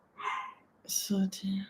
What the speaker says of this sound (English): That's my dog barking in the other room.